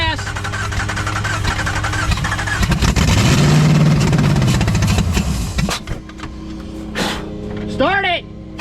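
A Dodge Ram truck engine roars loudly and revs up and down with a rough, rumbling drone, then cuts back toward a lower idle while people talk over it.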